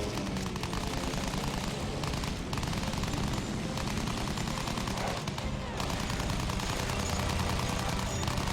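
A World War I fighter plane's machine gun firing in Battlefield 1, a continuous rattling stream of rapid shots over a steady engine drone, loud and close, with only brief gaps.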